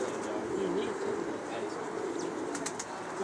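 Pigeons on a rooftop loft of high-flyer birds coo softly amid flapping wings and steady outdoor noise, with someone talking over them.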